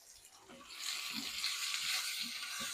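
Tomatoes drop into a pan of cooking cucumber, and a soft, steady sizzle builds and hisses on quietly with faint clicks beneath.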